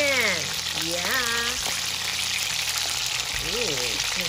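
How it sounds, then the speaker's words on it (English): Steady hissing sizzle of chicken frying in hot oil for chicken caldereta, loud and close, with voice-like tonal sounds drifting over it. "Okay, you hear the sizzling, guys."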